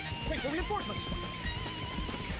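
In the video game Dynasty Warriors 3, a horse whinnies with a rising and falling neigh over clip-clop hooves and battle noise, while a person talks over it.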